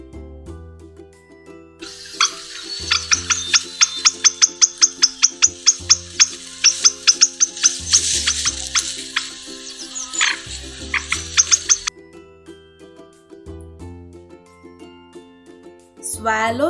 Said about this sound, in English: Grouses sounds drums.